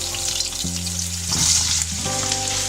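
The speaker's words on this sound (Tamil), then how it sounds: "ஆனியன் சேர்த்துட்டு வதக்கலாம்." Onions with green chillies sautéing in a pan, a continuous bright sizzle with soft stirring scrapes, close and loud, under faint background music.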